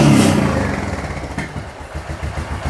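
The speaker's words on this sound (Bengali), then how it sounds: "ইঞ্জিনের বিটটা একদম পুরো ক্লিয়ার আছে" A Royal Enfield 350 motorcycle at a used bike dealer idles close by, starting with a loud burst and then settling into a steady, evenly pulsing single-cylinder thump.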